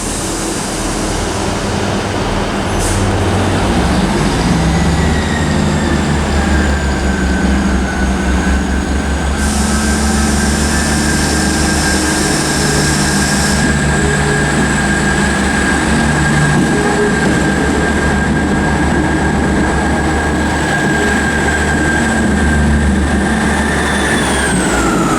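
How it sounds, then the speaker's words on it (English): A ScotRail class 158 diesel unit, 158705, idles and rumbles at Aberdeen station. A low engine drone runs throughout under long, high whining tones that rise and hold, with a brief hiss burst partway. "the final now is 158705 with a 1750 ScotRail service to Montrose."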